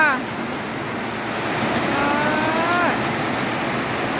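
A cow moos on a farm beside a new pen, with an electric fan running. A drawn-out, rising and falling moo carries over a steady background hiss, a little muffled and at moderate distance.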